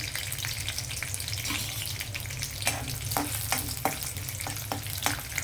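Chana dal and garlic fry in hot oil for a tempering, a dense steady sizzle close up, broken by occasional soft stirring scrapes, with no speech.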